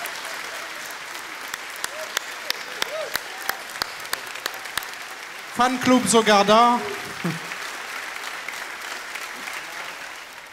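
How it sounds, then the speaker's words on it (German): Audience applause on a German magazine show, a steady patter of many hands with a few louder individual claps, under a brief spoken remark and a loud sung or cheered vocal burst midway. "Einen großen Applaus."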